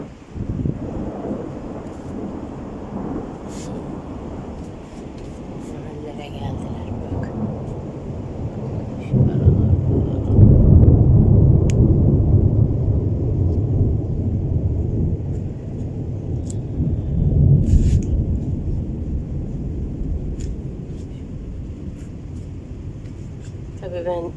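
Heavy rain and low, rolling thunder with lightning rumble steadily in Antalya, Turkey, swelling louder midway, while a voice talks over the storm.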